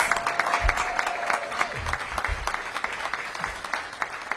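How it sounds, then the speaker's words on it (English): An audience at a Washington DC mayoral event on minority business funding applauds steadily throughout, dense clapping close and continuous with a brief whistle-like tone early on. "Give Shannara a big round of applause."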